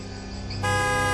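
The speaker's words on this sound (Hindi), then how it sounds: "ये वही गाड़ी थी और उसमें से आधा अंदर और आधा बाहर लटकता हुआ वो आदमी भी था और हॉर्न भी वैसे ही रुक रुक के एकदम से" A car horn blares in a sustained, steady tone that jumps louder and brighter partway through, sounding close and continuous with no talking.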